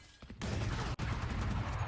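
Gunfire in Valorant on the map Haven during a wall bang, a dense burst of shots fired through cover that sounds distant and muffled in a pro match, with a short break in the middle.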